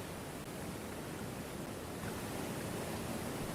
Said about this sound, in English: Follow until we see the waterfall.